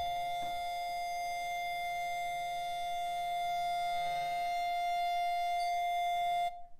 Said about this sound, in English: a siren marked the moment terrorists crossed the border into Gaza last year